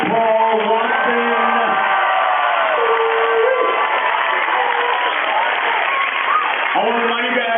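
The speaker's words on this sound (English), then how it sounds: "One more big round of applause, Mr. Captain Paul Watson." Audience at a benefit event applauding and cheering for a guest, with continuous clapping and whoops, voices shouting over the top and tonal calls rising above the crowd noise.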